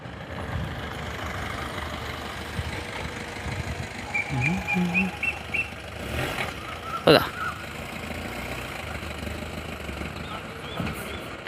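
A vehicle passes along a road beside a broken bridge, its engine rumble rising briefly over steady outdoor noise, with a sharp clatter as it goes by and someone talking now and then.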